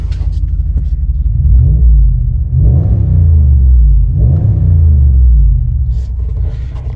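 Dodge Ram 1500 pickup with a straight pipe exhaust, heard from inside the cab: a deep, loud rumbling drone that swells in two revving surges, then settles back.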